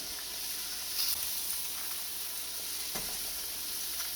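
Eggs sizzling in a pan at breakfast, a soft, steady frying hiss with a couple of faint clicks, heard alone at low level.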